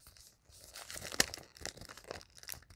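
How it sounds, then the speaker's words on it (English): Crinkling of packaging being handled, a short burst of crackling and tearing rustles, close and moderately loud, with no talking. "Crinkling."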